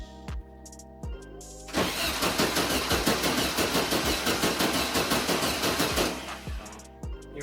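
A 1974 VW Beetle engine is cranked in a starting attempt. A few slow starter whirrs lead into a rapid, rhythmic churning of several seconds at moderate level, which then cuts back to separate cranking pulses.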